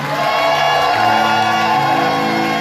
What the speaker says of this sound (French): Quand on acclame le Seigneur, pousse des cris de joie.